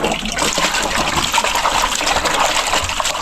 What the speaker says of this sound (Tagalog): Hugasan lang natin yan kasi alikabok lang naman